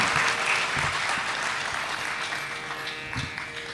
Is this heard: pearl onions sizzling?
no